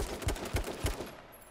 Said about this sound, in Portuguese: Eu tô tomando muito tiro.